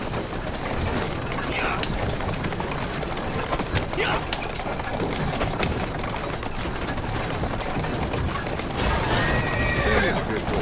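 A horse in Assassin's Creed Syndicate whinnies repeatedly over a dense, busy background of hooves and clatter, loud and close throughout.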